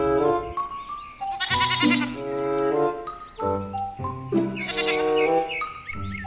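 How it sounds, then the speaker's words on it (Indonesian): A goat bleats repeatedly in loud, wavering cries, close by, with short pauses between calls and a bright musical backdrop. "Ini kambing teman-teman"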